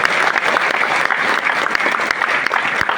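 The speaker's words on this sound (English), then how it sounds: "Give yourself a big round of applause." An audience at a DXN International event bursts into loud, dense applause, a continuous close roar of clapping hands filling the whole moment.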